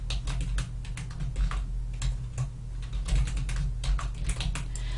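Steady clicking of keys as a macro name is typed on a computer keyboard during a spreadsheet exercise, close and moderately quiet over a low constant electrical hum.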